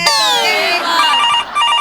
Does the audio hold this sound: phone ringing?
yes